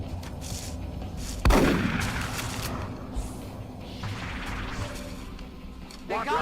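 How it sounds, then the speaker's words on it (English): A single heavy shotgun blast in the XCOM Long War game, sharp and booming with a trailing rumble, over steady game ambience with faint mechanical sounds. "I gotta do the shotgun."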